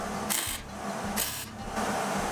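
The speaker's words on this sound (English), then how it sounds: "I got the welder out. We're going to just do a little zap here, a little zap here" Two short bursts of a welder tack-welding a nut onto an oil filter adapter in a Ford 302 engine block, each crackling zap lasting about a third of a second, close and loud over a steady background hum.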